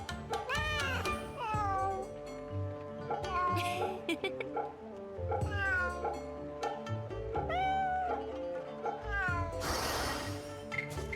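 Cats meow repeatedly when petted in the Fate/Samurai Remnant video game, several clear rising meows in a row with a short rustling burst near the end, over soft game background sound.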